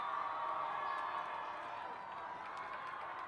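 Salina South football fans in the stands at Salina Stadium keep up a steady, broad crowd roar late in a high school game against Goddard, with scattered whoops and cheers rising over the din at a moderate distance.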